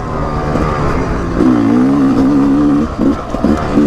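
A 2024 Rieju MR 300 Pro dirt bike engine revs under throttle on a trail ride, a loud, close two-stroke buzz rising and falling in pitch with sharp throttle blips toward the end.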